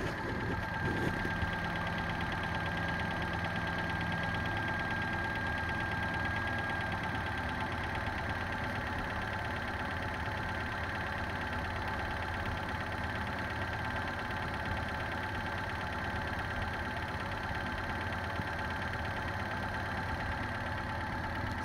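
A car engine idling steadily after a jump-start from another vehicle, a continuous even hum with a faint whine, moderately close and alone for the whole stretch.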